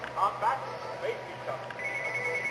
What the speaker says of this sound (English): Don't ignore the phone in the background.